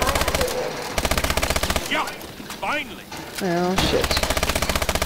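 Rapid machine gun bursts from the ExoZombies video game, loud bursts at the start and end with a pause in the middle where a person speaks briefly over quieter game sounds.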